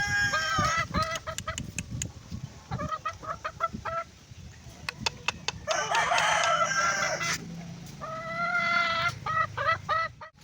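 A black broodcock rooster crows several times on a farm, loud and close, with clucking hens and other fowl in between. No one talks.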